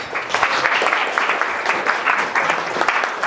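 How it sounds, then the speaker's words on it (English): A crowd claps continuously for a presenter after a talk on patient-generated mobile health data, with dense, close applause that pulses slightly throughout. "Folks, big round of applause for Ipek"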